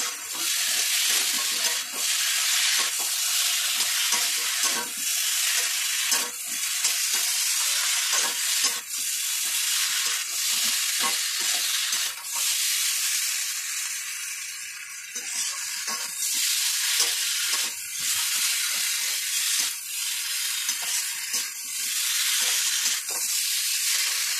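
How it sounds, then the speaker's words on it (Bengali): Fried fish roe fritters sautéed in a pan with cauliflower for a curry, a continuous loud sizzle broken by frequent scraping stirs and clatter of the spatula, no talking. "এবার ভেজে রাখা মাছের ডিমের বড়াগুলো আমি দিয়ে দেবো, একসঙ্গে সবগুলো কষিয়ে নেব।"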